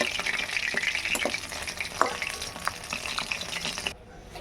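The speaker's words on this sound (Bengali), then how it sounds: "বাকিগুলোকেও আমি তেলের মধ্যে এভাবেই দিয়ে দেবো" Topse fish fry in hot oil, producing a close, continuous crackling sizzle with brief stirring scrapes, before the sound drops off abruptly at the end.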